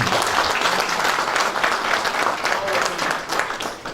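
An audience at a charity society's film presentation applauds steadily, a dense, loud burst of clapping from many hands that keeps up without pause.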